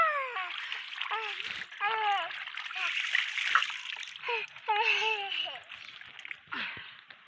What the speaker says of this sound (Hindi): ये देखो, आज मैं इसे नहला रही हूँ।